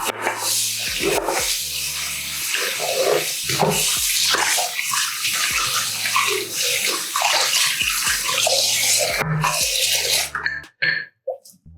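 Water splashes and runs steadily as shaving soap is rinsed off a face, a close, continuous wash with a dog barking now and then in the background, ending in a few quiet drips.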